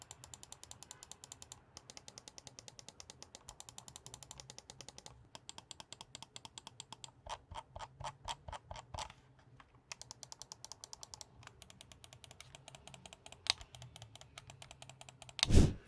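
A Logitech G Pro wireless gaming mouse has its switches pressed over and over, giving bursts of crisp, close clicks in quick, uneven runs with short pauses between them.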